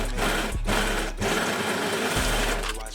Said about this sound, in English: Now I'm going to overlock the entire neckline because I have to bind it.